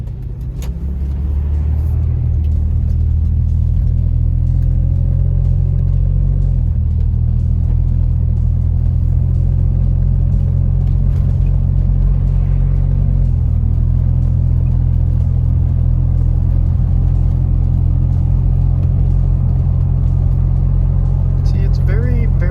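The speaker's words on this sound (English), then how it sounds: "just a quick little pulling out of the driveway acceleration" Toyota 4Runner 4th gen engine accelerating out of a driveway: a low, steady rumble that builds gradually and holds, heard from inside the vehicle with a person talking under it.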